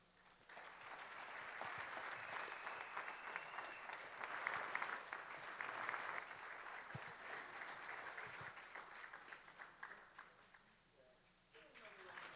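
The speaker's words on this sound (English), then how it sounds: "Applause." Sustained applause from a large audience fills the space, a thick wash of clapping that swells, holds for several seconds, then fades toward the end.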